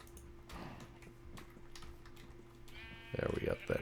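Sheep bleating in Minecraft, heard under a steady game hum; a few short bleats rise near the end after some ticking clicks, with a person talking over parts of it.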